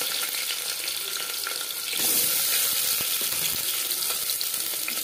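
Sliced onions hit three spoons of hot refined oil for a restaurant-style mutton curry, and a steady broadband sizzle swells louder midway as they go in, then holds, close and with no voices.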